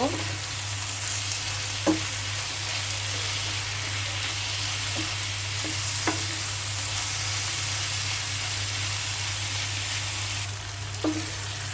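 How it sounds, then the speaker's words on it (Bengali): Bitter gourd and potato fry sizzling steadily in a pan, with a few brief spoon scrapes and clinks as it is stirred, close and continuous with no talk. "ভাজিটা আবার একটু নেড়ে দেব।"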